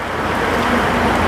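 Rain falling outdoors makes a dense, even hiss, close and constant for a brief moment.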